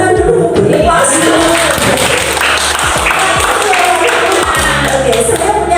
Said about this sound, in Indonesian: Saya punya kata, tapi kita beri tepuk tangan dulu.